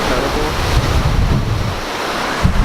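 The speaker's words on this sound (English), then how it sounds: "the waves are pretty light here" Light ocean waves roll in at Bondi Beach in Australia, a steady broadband wash of surf mixed with wind buffeting the microphone, with no speech and no clear breaks between swells.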